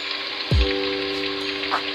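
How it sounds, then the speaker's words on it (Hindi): Goat or mutton meat (gosht) dropped into hot oil with ginger garlic paste for an aloo gosht qurma, giving a sudden loud sizzle burst that settles into a steady close frying hiss. "अब इसके अंदर मैं गोश्त ऐड कर रही हूँ और गोश्त को मैं इतनी देर फ्राई करूँगी"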